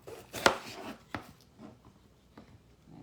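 A knife chopping a pepper on a cutting board, one sharp close cut followed by a few softer, scattered slicing taps, with no one speaking.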